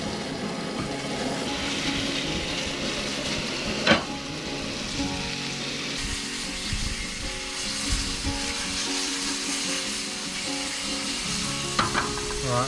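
Flathead fish fillets fry in oil until golden and crispy, a loud dense sizzle held close throughout, with a couple of sharp clanks from turning them over. Nothing is said.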